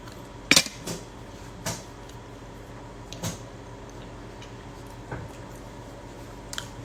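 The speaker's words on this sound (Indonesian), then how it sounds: "Neng lagi makan itu nasi goreng." Fried rice, nasi goreng, is eaten with cutlery, giving faint, sparse clinks and scrapes of a spoon on a plate at irregular intervals over quiet room tone.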